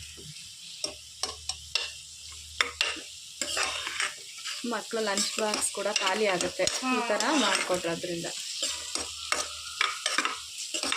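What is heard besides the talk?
stirring a sizzling tempering (oggarane) for lemon rice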